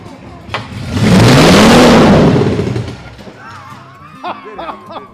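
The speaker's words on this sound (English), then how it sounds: "This is a V12 Lamborghini motor from a Lamborghini Countach that we'll soon be looking at on the wall." A V12 engine from a Lamborghini Countach, mounted on a stand, cranks and fires, then swells into a loud, sustained rev that peaks and falls back, with people talking and exclaiming nearby afterward.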